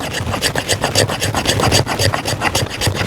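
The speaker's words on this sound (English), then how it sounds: "I really want to see is how well this thing scrapes" Repeated rasping strokes of the spine of a Gerber Ghoststrike knife scraping, likely against wood, in a steady back-and-forth rhythm, close and loud with no talking.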